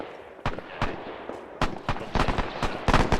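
Gunfire from a gun team in the military game Arma 3, a WWII training operation, with loud sharp shots in uneven bursts and single cracks, some overlapping near the end.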